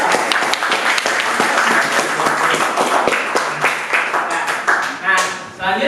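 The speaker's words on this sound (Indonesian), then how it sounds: "kita tepuk tangan untuk semua ya." A classroom group claps hands together after student project demonstrations, a dense, close burst of many quick overlapping claps that runs for several seconds before tapering off, with some voices mixed in.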